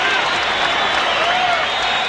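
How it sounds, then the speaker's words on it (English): A boxing crowd at a world title fight breaks into a loud, dense ovation of applause and cheering that fills the arena without pause. "Oh, what an ovation."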